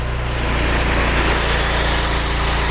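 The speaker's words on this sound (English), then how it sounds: "We can start the system with a dual lance on low pressure," An industrial portable pressure washer starting up on low pressure with a dual lance, giving a loud, steady engine drone with constant hum and hiss close by.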